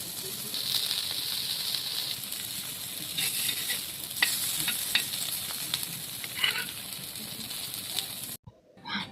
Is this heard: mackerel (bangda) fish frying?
yes